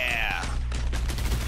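Dense, rapid gunfire in a video game crackles continuously in a loud, chaotic fusillade at close range, with a high tonal whine fading out early on.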